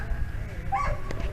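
Dog giving a short whimpering yelp with a quick bark-like sound, fairly close, heard briefly over background room noise and a faint human voice.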